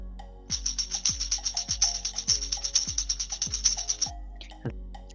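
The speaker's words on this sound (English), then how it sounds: "That was the sound of a tambourine." A tambourine jingles in quick rhythmic shakes over a steady thumping backing beat, its bright metallic rattle running for several seconds and then ending.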